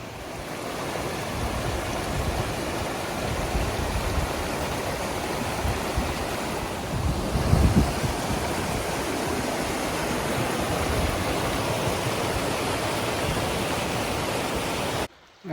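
Someone wades across a Grand Canyon stream in hiking shoes, the steady rush of flowing water filling the scene with a brief splashy disturbance midway, close and continuous.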